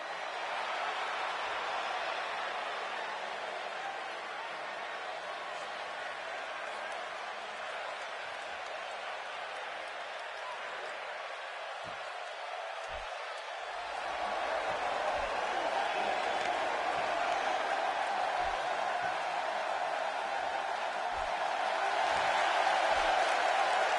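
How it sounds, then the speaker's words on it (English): A virtual arena crowd in the WWE 2K18 wrestling game, cheering and applauding as a continuous mid-level roar that swells louder in the second half, with a commentator's voice heard over it. "This crowd is definitely"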